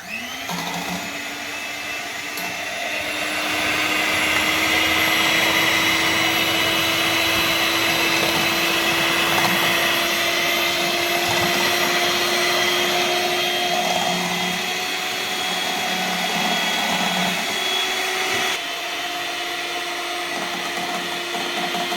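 A kitchen blender whirring through eggs, a steady high motor whine that ramps up at the start, holds loud and even for a long stretch, then drops slightly in pitch near the end.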